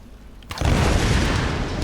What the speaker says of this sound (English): See, make explosions over there.